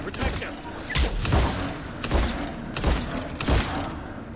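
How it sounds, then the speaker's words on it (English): Repeated shotgun blasts from the Mass Effect 3 video game, several heavy booming shots spaced roughly every half second to second, loud and close amid busy combat noise. "I'm going to just spam the shotgun"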